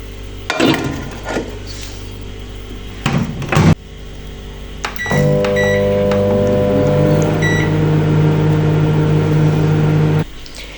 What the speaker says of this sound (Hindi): इसको मैं डाल लेती हूँ प्लेट में और ओवन में गर्म कर लेती हूँ